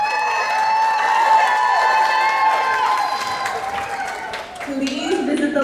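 A theater audience cheers and claps in a sustained, loud wash of crowd noise with whoops and shouts. Near the end it thins out as voices take over.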